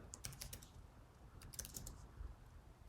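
Quiet bursts of keyboard typing on a computer, quick clusters of key clicks with a short pause between them, close but soft.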